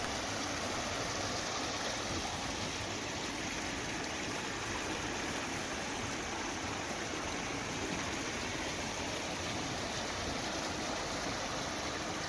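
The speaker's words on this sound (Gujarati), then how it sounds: "નદી નાળામાં પાણી વહેતા થયા છે" Floodwater rushes through streams and channels around Lalukha village near Dwarka, Gujarat, after heavy rain, giving a constant, even roar with no other sounds on top.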